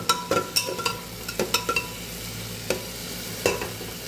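A mix of mung, masoor and chana dal fries in a pan while being stirred, so sharp scraping clacks of the spoon land irregularly over a continuous soft sizzle.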